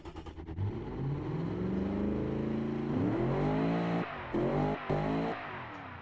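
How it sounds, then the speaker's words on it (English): A custom 327-kilowatt engine in a BeamNG racing game revs up, its tone climbing steadily in pitch, then gives a few sharp throttle blips before cutting off. "let's give a listen to our jovial new engine"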